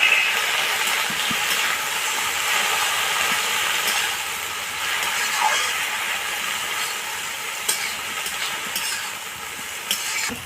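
Washed water spinach dropped into a pan of lightly browned vegetables gives a steady, broad sizzle with stirring scrapes and a few sharp clinks, heard close and alone.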